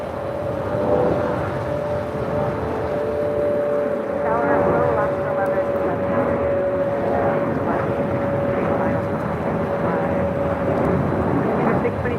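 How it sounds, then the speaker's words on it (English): A Delta Boeing 737-800 bound for New Orleans takes off at LAX, a steady loud engine roar with a sustained whine that continues unbroken while people talk nearby. "Delta Airlines 11:15 taking off to New Orleans on the 737-800"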